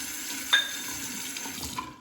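Water from a tap runs briefly and quietly while a Henson razor is rinsed under it, with a small clink partway through.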